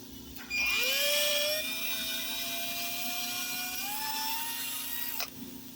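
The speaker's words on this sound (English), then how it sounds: "We started with a small drill bit, as you can see here. I'm going to drill through here." A small drill bit bores through a shear pin holder for a snow blower, giving a loud, steady high-pitched whine that rises slightly in pitch partway through before stopping abruptly, with no talking.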